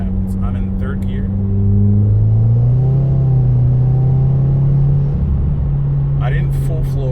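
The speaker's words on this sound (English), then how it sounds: "I'm going to go ahead and accelerate and show you what happens. I'm in third gear." A 2017 Subaru WRX with a boost fault accelerates in third gear from about 35 mph. The engine drone rises steadily in pitch and loudness, heard from inside the car, and a voice talks briefly at the start and end.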